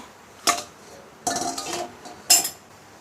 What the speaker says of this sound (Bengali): থোরের অবস্থা দেখি, ঢাকনা উঠিয়ে।